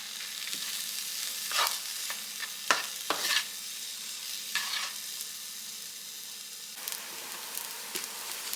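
Fried rice with peas and carrots sizzles steadily in a hot pan while a utensil scrapes and stirs it in short, irregular strokes, fairly close and quiet, with no talking.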